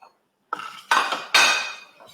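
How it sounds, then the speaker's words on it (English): Knife clinking against a plate or dish while cutting eggs, three sharp metallic taps with short ringing tails, close and clear with no talking. "Okay, so I'm going to cut the eggs."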